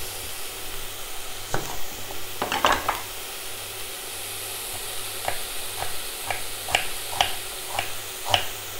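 Food browning in a pan for a homemade sauce sizzles steadily while a utensil scrapes and taps the pan in scattered stirring strokes, close and moderately quiet.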